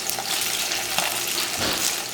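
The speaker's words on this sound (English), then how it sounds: "So I've added my potatoes to my oil." Potatoes frying in hot oil, a dense, even sizzle that fills the short stretch close up and loud, with faint stirring movement beneath it.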